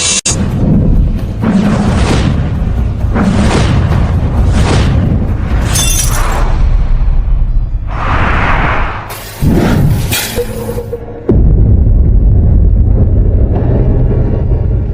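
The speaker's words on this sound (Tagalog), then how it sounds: "Bakit simula nang nabasag ang florera?" A vase shatters in a dramatic indoor scene, loud bursts of breaking and crashing noise in several separate hits over about fifteen seconds, ending in a heavy sustained rumble, no talk.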